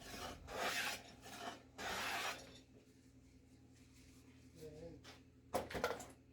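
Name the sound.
burnishing finished wood with wood shavings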